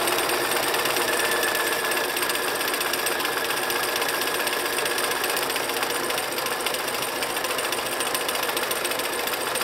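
A sewing machine runs a continuous straight stitch through fabric, a dense, even mechanical whir held close and loud without a break and with no voices.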